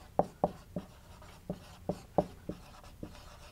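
The symbol F is written by hand in a lecture on fields and vector spaces, heard as a string of about eight sharp, close taps and short scrapes in a quiet room, with no speech.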